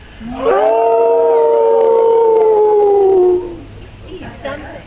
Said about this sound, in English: Howling on command is not something they do.